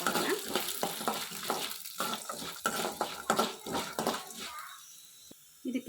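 Curry leaves fry in a pan while being stirred, giving a rhythmic series of soft scrapes and clinks over a faint sizzle, fairly quiet and close, ending with a brief pause.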